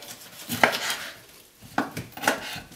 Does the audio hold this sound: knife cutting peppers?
yes